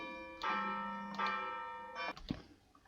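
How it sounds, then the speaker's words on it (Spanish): Church bells ring out in a few resonant, slowly fading strikes, followed by a brief clunk, with no talking. "una vez que han sonado las campanas, puedo continuar con el tutorial"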